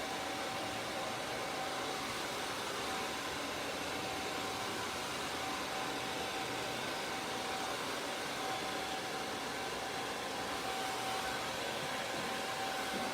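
A hair dryer blows steadily on long layered hair during a haircut, a continuous broadband whoosh with a faint steady whine, holding at even loudness throughout with no talk.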